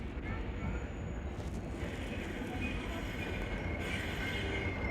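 Subway train at a station platform in Korea, a steady loud rumble of railcars with faint wheel squeal and hiss, continuous throughout, with some voices underneath.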